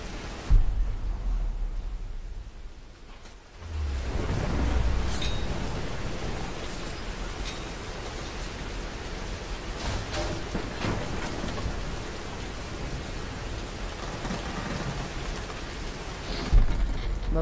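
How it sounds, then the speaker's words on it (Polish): Steady rain falls in the video game Tomb Raider (2013), a broad continuous wash with a heavier rumbling swell early on and scattered drips and splashes afterward. No talking. "Ciągle pada."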